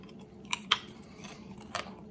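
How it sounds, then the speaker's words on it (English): Crunchy Corn Nuts Fiery Hot are chewed up close, giving a few sharp, brittle crunches spaced unevenly over a quiet background. "Very crunchy on that corn nut."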